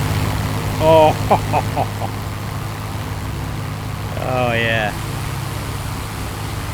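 Steady drone of Avro Lancaster bomber engines in a VR flight simulator, a continuous low multi-engine hum with a man briefly exclaiming over it.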